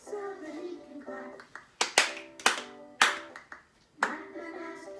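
Children clapping hands during a song, several sharp, distinct claps in a loose rhythm, close by, between and under a sung melody.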